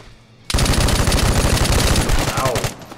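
Rapid automatic fire from a UKVZ rifle in the shooter game Vigor, a loud sustained burst of closely spaced shots lasting over two seconds before cutting off.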